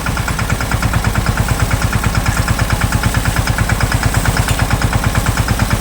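Tractor engine idling steadily on a farm during a sorghum harvest, a loud, close diesel chug with an even, rapid pulsing beat throughout.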